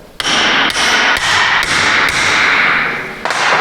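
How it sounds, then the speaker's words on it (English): A U-joint hammered into a front axle shaft: about six sharp metallic whacks at an uneven pace, close and loud, each ringing briefly over a steady background hiss. "I'm going to give it one more good whack here."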